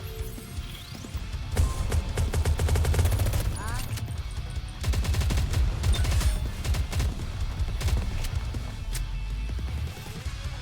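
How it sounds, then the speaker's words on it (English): Gunfire in the video game Nikke comes as bursts of rapid shots and sharp crashes, dense in the first half, pausing briefly, then resuming in quick volleys, with a voice speaking at times. "We hear the sounds of gunfire."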